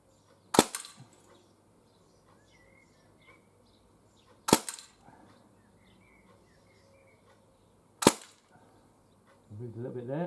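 Three sharp, isolated shots from a Swiss Arms Uzi airsoft gun fired outdoors at a 12.5 meter target, spaced a few seconds apart against a quiet background with faint insect-like chirps.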